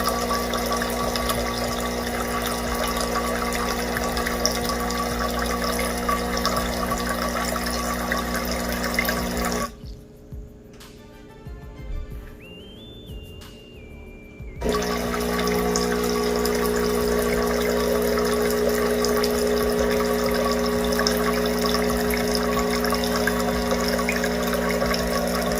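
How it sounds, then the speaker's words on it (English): Hot water rushes steadily from the spout of a Breville Barista Pro espresso machine during descaling, with a pump hum running underneath. The flow stops for several seconds partway through, then resumes at the same level. "So now you see the water coming out of the hot water spout."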